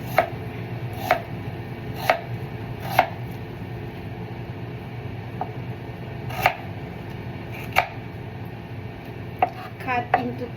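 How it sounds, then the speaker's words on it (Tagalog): A knife chops ingredients such as onion into cubes on a board, giving about nine sharp, separate strikes at an uneven pace, spaced roughly one to two seconds apart, with a faint low hum underneath. "Cut into cubes"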